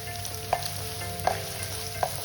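Crushed ginger and garlic sautéing in a hot pan for beef ularthu, a steady low sizzle with three sharp stirring clinks spaced evenly, close by and with no talking.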